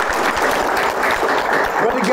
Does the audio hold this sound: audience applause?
yes